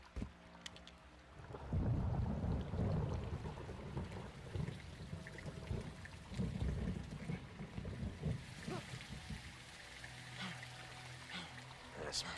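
Heavy rain and rumbling thunder in Call of Duty: Modern Warfare 2 form a dense, faint storm wash with low booming swells throughout, and the downpour keeps going without a break.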